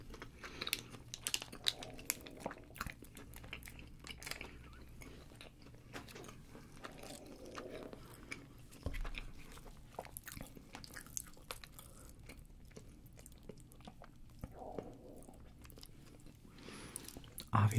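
Raising Cane's fried chicken, fries and Texas toast are eaten up close, with crisp bites, crunching and wet chewing that come in irregular bursts against a quiet background, without any talking.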